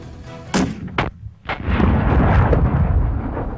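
A Barrett M82 .50 caliber sniper rifle fires outdoors: several sharp, heavy booming reports in quick succession, followed by a long, loud rumbling echo that rolls on to the end, with no voices.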